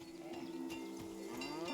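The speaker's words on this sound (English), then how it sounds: "You are a cow and you are named Krasnahorkai." A cow moos in the video game Season: A Letter to the Future, a low, drawn-out call sounding close and steady under a soft tonal background, with no talking.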